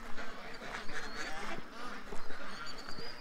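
Ducks quack and honk in a busy, overlapping chorus near a garden and pond, mid-distance and fairly steady, with agitated bird calls layered throughout.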